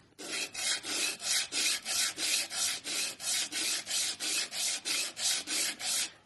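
Steady rasping strokes, about sixteen evenly timed back-and-forth passes of a hand file on metal, close and fairly loud with no talking.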